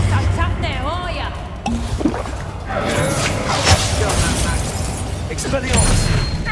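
A Reductor curse blast in Hogwarts Legacy during combat, with loud bursting impacts and crackling magic effects over rumbling battle noise, and a voice calling out between hits.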